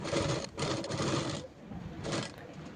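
A sewing machine runs in fast bursts while stitching the lining of a padded boat-neck blouse, loud and close, with short pauses between runs.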